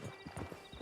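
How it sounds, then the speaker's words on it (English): Horse hooves clip-clop in a steady rhythm in the Western video game Red Dead Redemption, several close, distinct strikes with no talk over them. "Get on the horse when you're ready."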